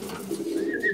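Pigeons coo at a pigeon loft, a soft low rolling coo with a brief higher note near the end, close and fairly quiet.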